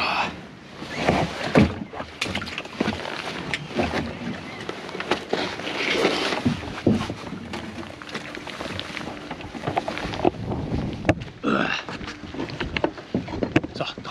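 A person climbs out of a kayak with water sloshing inside it on the Baltic coast at Bergkvara, Sweden, producing irregular splashes, hull knocks and scraping thuds, with occasional voice sounds in between.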